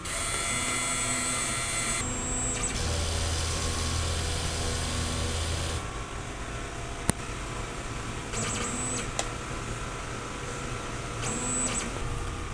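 A DTF printer runs its print head cleaning cycle, a steady mechanical whir and hum that changes pitch in stages, with brief higher whines and a faint click partway through, close by with no talking.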